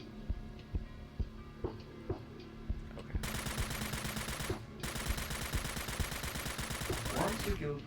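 Guns firing at targets during a video game demo tutorial, rapid repeated shots building into continuous dense gunfire, with a brief gap before the barrage resumes.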